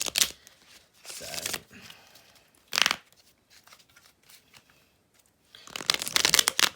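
Tarot cards shuffled in bursts: crisp riffling flutters come in short clusters separated by quiet gaps, close and fairly loud, with a longer shuffle at the end and no speech.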